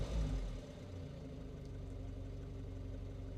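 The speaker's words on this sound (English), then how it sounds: "It's a really nice sounding engine." A 1960s Standard Ensign Deluxe Estate engine idles steadily with a smooth, even low rumble, heard close up and at a consistent level after a brief louder start.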